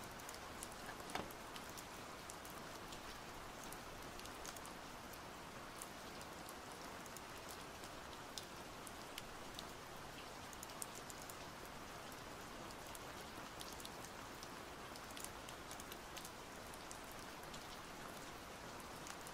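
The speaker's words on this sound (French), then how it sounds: "ce bruit de pluie" Steady rain falls continuously, a dense even patter of drops with occasional sharper drips, quiet and uninterrupted with no voices.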